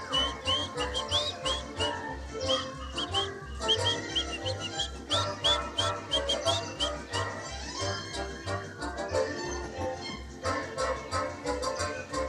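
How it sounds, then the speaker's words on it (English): At a live Disneyland show, an audience whistles bird-like chirps and trills together over rhythmic backing music, the whistling scattered and moderately loud throughout. "Everybody whistle."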